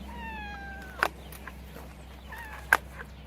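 A cat meows faintly outdoors near fruit bushes, a drawn-out meow early on followed by a shorter second meow, against quiet background noise.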